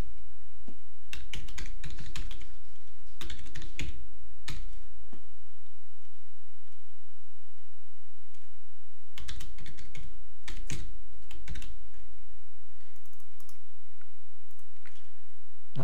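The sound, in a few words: typing on a computer keyboard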